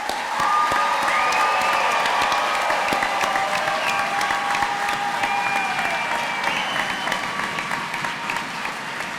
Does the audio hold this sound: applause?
yes